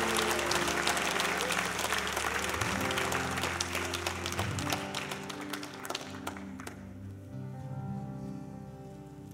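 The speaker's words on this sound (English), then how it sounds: "can you give the Lord a hand clap offering of praise?" A church congregation claps in praise with dense, sustained applause over organ and music tones for about six seconds, then the clapping thins to scattered claps as the music continues.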